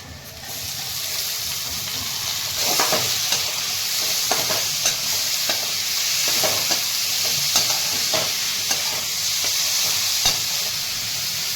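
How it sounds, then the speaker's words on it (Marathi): Chopped tomatoes stirred into reddish onions frying with turmeric in a pan for tomato chutney: a steady sizzle with intermittent scraping stir clicks throughout, close and fairly loud, no talking. "आता आपण टमाटे कट करून घेतले की टाकून घ्यायचे"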